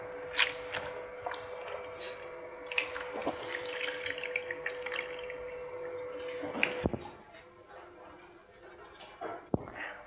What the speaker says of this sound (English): I'm going to squeeze out some coconut milk